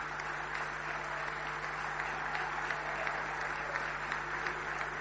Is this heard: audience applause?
yes